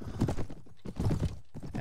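A horse gallops in the Mount and Blade: Warband video game, with a rapid, rhythmic clip-clop of hooves in two bursts, close and fairly loud, and no voices.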